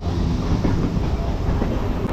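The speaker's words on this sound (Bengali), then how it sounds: "পুরোপুরি রাইট টাইমে ছেড়ে দিয়েছে আমাদের ট্রেন শিয়ালদা স্টেশন থেকে।" A passenger train pulling out of Sealdah station on the line toward Bakkhali, its carriage giving a steady low rumble with faint rhythmic wheel clatter, continuous and close from inside the coach.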